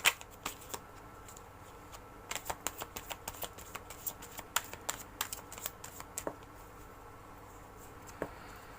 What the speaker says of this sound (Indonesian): Kalau dua akan shuffle lagi.